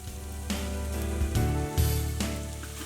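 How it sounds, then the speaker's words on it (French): Chopped shallot browning in beef pan juices, a steady soft sizzle and crackle with a few louder bursts as the pan is stirred. "j'ai fait blondir l'échalote ciselée dans les sucs de cuisson"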